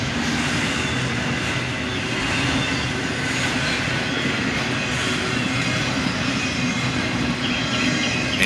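A freight train of boxcars and auto racks rolling past up close, a continuous loud rumble with rhythmic wheel clatter and occasional squeal throughout.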